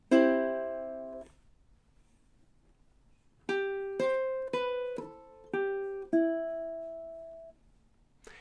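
Ukulele playing measures 28 into 29 of the Jamaican folk song Day-O: a ringing strum fades out, then after a pause five plucked notes follow one another evenly, the final one sustained, close and alone.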